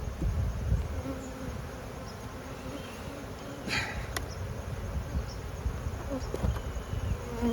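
Honeybees hum in an open hive, a dense, continuous buzz that stays steady under faint scattered clicks and rustles, with no talk.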